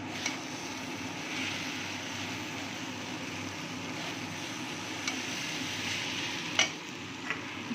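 Spoonful of ghee added to a hot pan while making egg pulao, giving a steady soft sizzle under a constant low hum, with a few faint clicks near the end.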